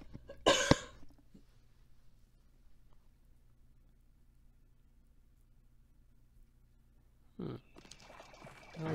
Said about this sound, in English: Cough coming on.